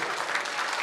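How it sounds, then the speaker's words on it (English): Dense, steady applause from a concert audience at a high school band concert, a brief close burst of many hands clapping with no voices. "have everyone see and clap for those individuals"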